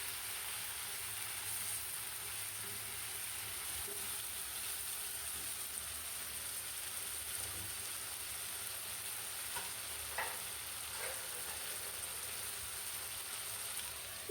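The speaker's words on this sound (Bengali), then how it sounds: "এই পেঁয়াজের মধ্যে মুরগির মাংসটাকে ভেজে নেব" Chicken meat, a tough desi bird, frying with onions in a pan for a vegetable-stalk curry, giving a steady broadband sizzle throughout with occasional stirring clinks, close and continuous, no talking.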